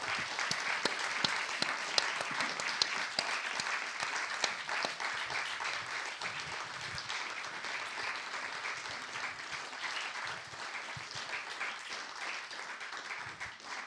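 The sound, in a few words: audience applause for the guests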